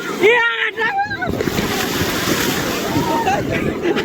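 Big ocean waves rolling and crashing in a steady roar with wind noise at New Digha beach, while voices talk and call out over it at the start.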